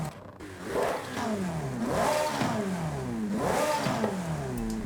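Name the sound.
Ferrari F8 engine revving with upgraded intake, video game Forza Horizon 5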